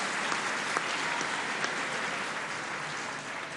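Sustained applause from an audience in a legislative assembly at the opening of the Argentine legislative session, a dense steady roar of many hands with no talking.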